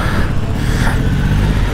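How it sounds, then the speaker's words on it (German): Cars driving past a petrol station in Düsseldorf, with police motorcycles nearby, making a dense, loud, continuous traffic roar of engines passing close by. "Junge, da kommen so viele Autos."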